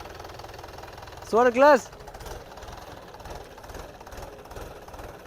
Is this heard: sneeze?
no